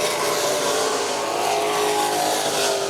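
Race cars battling side by side at Virginia Motor Speedway, a steady dense engine roar that holds loud and unbroken throughout.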